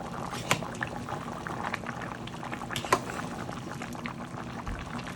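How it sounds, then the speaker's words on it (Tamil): A pot of country chicken curry bubbles and simmers steadily at a gentle boil, with soft liquid pops and occasional louder blips, no talking. "சிக்கன் கறி அப்படி கொதிக்குதுண்டு"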